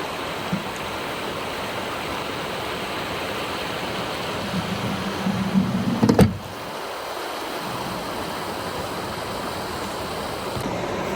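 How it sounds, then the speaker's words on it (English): Cache Rapids in Barron Canyon, Algonquin Park, rushes as a steady mid-distance wash of white water, briefly overlaid by a nearby clunking rise of handling noise before the flow continues alone. "And that's Cache Rapids behind or front."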